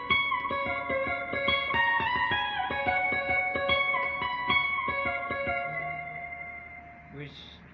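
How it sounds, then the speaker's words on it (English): A piano keyboard plays a solo line using pitch bend so the notes slide like a lead guitar, with an effected, reverberant tone; single notes sound clearly in sequence and fade toward the end. "so I was actually using my pitch bend to make it sound like a lead guitar,"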